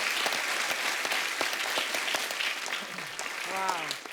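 A TV studio audience claps steadily throughout, a dense wash of applause, with a voice briefly heard near the end.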